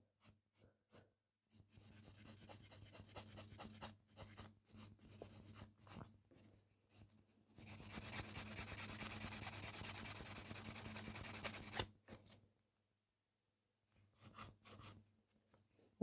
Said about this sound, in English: I'm just filing this wee excess so there is nothing to catch